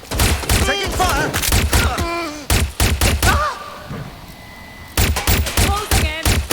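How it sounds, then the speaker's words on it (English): Gunfire rattles through a shootout in the video game Watch Dogs Legion, rapid loud bursts of shots layered with shouting voices and grunts, briefly easing before another volley. "They're shooting!"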